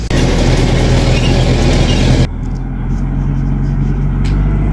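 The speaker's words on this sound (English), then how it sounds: "Dad is spreading the bins with the Kubota." A Kubota tractor's engine rumbles loudly close by while it spreads apple bins in an orchard, then the roar drops sharply partway through to a quieter, steady idle.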